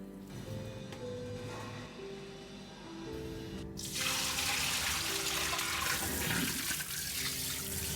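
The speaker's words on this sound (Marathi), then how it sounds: "फ्रूट्सला एकदा स्वच्छ पाण्याने धुवून घ्यायचं" Tap water running over fruits as they are rinsed clean after a baking soda and vinegar wash, starting quietly and then becoming a strong, steady rush of water.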